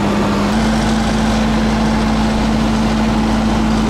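An engine runs loudly and steadily while building pressure in a Vulkan applicator for KAS-32 liquid fertilizer, a constant droning hum that sets in just after the start and holds without change.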